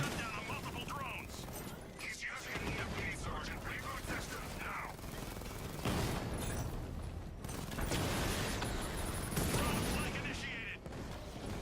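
Gunfire in Batman Arkham Knight, dense bursts of shots and impacts running steadily through the game action, with someone talking over much of it.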